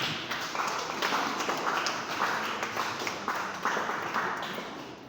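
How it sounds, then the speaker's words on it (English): Audience applause at a leadership academy dialogue event greets a representative, a steady wash of many hands clapping at moderate, even loudness that tapers slightly toward the end. "A round of applause as she comes."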